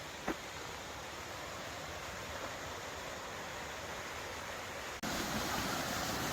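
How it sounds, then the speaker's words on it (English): A rushing stream in the Appalachian woods along a trail, a steady broadband roar of flowing water that continues throughout and grows slightly louder near the end. "I could hear this water for a long time."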